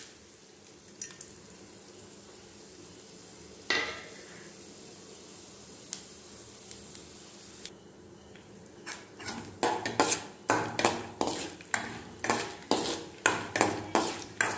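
Chana dal and urad dal roasting in oil in a kadai, a faint sizzle at first, then a quick series of sharp metal scraping and tapping strokes from stirring, close and fairly loud.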